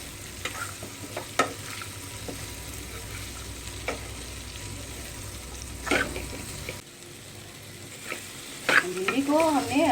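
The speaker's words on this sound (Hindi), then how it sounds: "कटे हुए भिंडी डाल देते हैं। और इसको अच्छे से हम मिक्स कर लेते हैं।" Chopped okra stirred in a frying pan while making crispy bhindi, a steady close sizzle with repeated scraping stir strokes, and a brief faint voice near the end.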